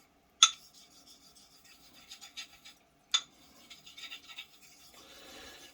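Straight razor drawn across a Kurimako sharpening stone gives a sharp scrape followed by soft rasping strokes, repeated twice, close and quiet.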